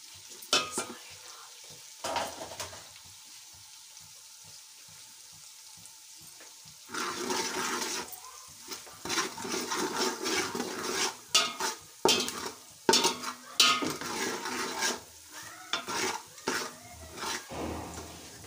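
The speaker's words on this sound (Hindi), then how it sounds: "ये चिकन हम फ्राई कर रहे हैं।" Chicken for a macaroni dish fries with spices in a pan, a steady sizzle broken by bursts of scraping and clattering as it is stirred, growing louder and busier in the second half.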